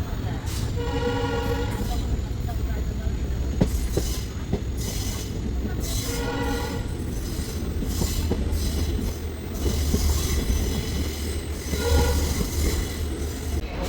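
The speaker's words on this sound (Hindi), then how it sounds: "अब हमारी ट्रेन का अराइवल हो रहा है पम्बन रेलवे स्टेशन पर" A train pulls into Pamban railway station on Rameswaram island, rumbling and clattering steadily with wheels squealing and a faint horn, heard from on board as a continuous moderately loud roar.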